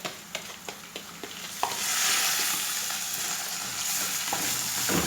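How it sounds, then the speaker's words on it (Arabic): Rice poured into hot onion-flavoured oil with browned vermicelli for Egyptian koshari, a few stirring clicks followed by a loud, steady close-up sizzle of frying that carries on to the end, with no voices. "انا خدت على فكره الزيت من الزيت بتاع البصل، هنزل بالرز اهو"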